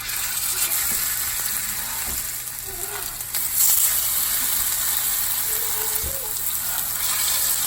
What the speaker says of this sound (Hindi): तो ऑयल हमारा गर्म हो चुका है, तो अब हम इसमें डालेंगे ये कबाब